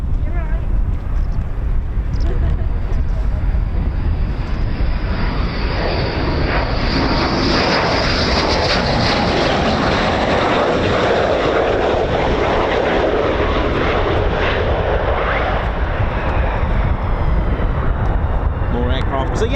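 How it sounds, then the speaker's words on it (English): Military jets, F-15s and F-35s, roar past at an RAF air base, a loud continuous rushing engine noise swelling and fading over the whole stretch, with a voice talking underneath. "More aircraft."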